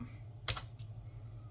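Keys pressed on a computer keyboard while setting up a TrueNAS Scale server: one crisp, close keystroke clack followed by a softer tap, quiet over a low steady hum.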